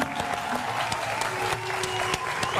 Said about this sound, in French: Voilà, il s'est levé pour t'applaudir.